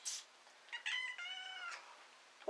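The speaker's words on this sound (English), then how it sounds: "Excuse the cat." A cat meows indoors, one drawn-out clear meow near and moderately loud, with a few faint chirps around it and no talk.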